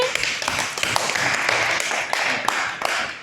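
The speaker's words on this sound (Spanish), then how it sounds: "un aplauso bien fuerte" A crowd applauds at the close of a community mental health session, giving close, crisp claps in a brisk continuous patter that stays even throughout.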